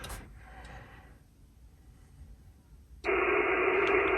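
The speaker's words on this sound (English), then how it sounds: "I hear static, that's a good thing." Ham radio static from a Yaesu ATAS-120 antenna setup mounted on a trailer hitch, starting as a faint hiss and then jumping abruptly to loud, steady broadband white noise that holds to the end.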